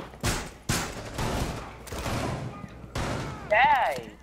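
Rainbow Six Siege Terrorist Hunt gunfire: several sharp, loud bursts of automatic shots, each followed by a short decay, spaced unevenly across the moment, ending with a whining game effect.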